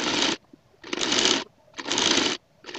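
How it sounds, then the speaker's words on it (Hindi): A sewing machine stitches lace onto a chicken-style trouser in three sustained runs, each about half a second to a second long, separated by short quiet gaps. The whirring is close and steady. "यहाँ पे लेस रख के इसको सिलाई लगाएंगे"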